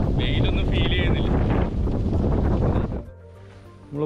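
A strong breeze on a boat trip through the Kuttanad backwaters buffets the microphone with loud, continuous roaring gusts for about three seconds before dropping away to quieter background sound.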